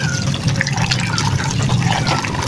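Hot water poured over freshwater snails, a continuous splashing, bubbling pour lasting the whole clip, loud and close with no talk.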